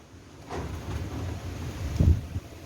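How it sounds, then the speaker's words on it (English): Strong wind gusts outdoors during seed planting, buffeting the microphone in a low rumble that swells after a moment and peaks near the end. "Oh wow, this wind is getting really strong now."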